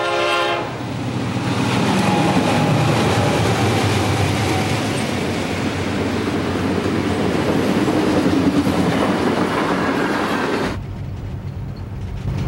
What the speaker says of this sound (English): It's also a great spot to catch the Tropicana juice train flying by.